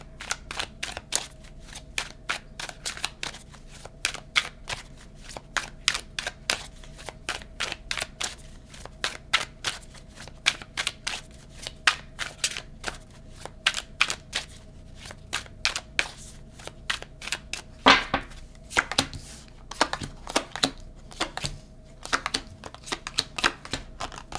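Tarot cards shuffled and pulled from the deck, a steady run of crisp riffling clicks and flicks that continues without pause, moderately quiet and close, with no talking.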